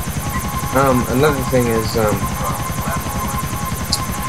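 A video-game helicopter drones steadily throughout with a regular rotor pulse, loud and continuous beneath a voice speaking over it.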